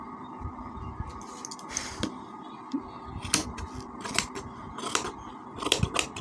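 Scissors snip through fabric for a kameez sleeve in a series of short crisp cuts at an irregular pace, close to the microphone, with faint room noise between snips.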